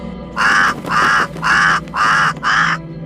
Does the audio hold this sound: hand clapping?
no